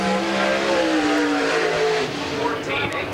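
A late model stock car laps a short oval at a 1995 STARS race at Tyler County Speedway. Its engine drones loud and steady with gently shifting pitch, and a voice talks over it.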